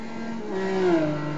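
A Ferrari F550 engine in a racing video game on the Nurburgring climbs steadily in pitch under acceleration, a smooth droning tone rising over about a second and a half with no voices.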